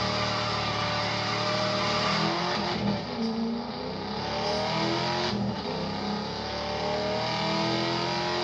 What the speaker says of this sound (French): il est avec sa Maserati, Valentin